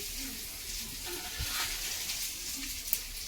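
Steady hiss of frying while khichuri cooks on a wood-fired stove, a continuous soft sizzle with occasional stirring clinks and small pops.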